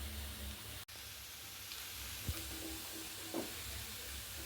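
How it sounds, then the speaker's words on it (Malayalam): Beans stir-frying in a pan, a faint continuous sizzle and hiss with a sharp dropout early and a couple of brief stirring scrapes, no speech. "നന്നായിട്ട് തട്ടിപ്പൊത്തി ഇളക്കി നന്നായി തട്ടിപ്പൊത്തി വേവിക്കും."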